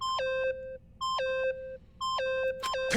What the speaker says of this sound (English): Stop that goddamn beeping and say something!